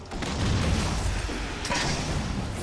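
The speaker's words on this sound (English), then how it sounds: "turn around, and fire with the fuel rod cannon" Fuel rod cannon fire from a jetpacking player aimed at charging enemies in Halo 4's campaign: a dense, rumbling barrage of booming blasts over continuous battle noise, loud and steady with a bright crack late on.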